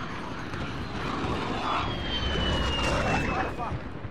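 Incoming aircraft arriving for an allied precision strike in a video game make a sustained engine roar that swells and drones on for several seconds under game noise and voice callouts.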